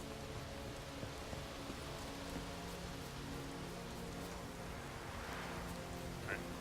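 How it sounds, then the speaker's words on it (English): Steady patter of rain falling in the video game The Witcher 3, a constant hiss with low rumbling underneath, no talking. "In the rain."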